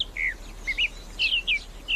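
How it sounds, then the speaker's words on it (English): A song thrush sings outdoors in a quick series of short, bright chirping phrases, clear and fairly close against a faint low hum. "I heard a song thrush singing Fit to Burst."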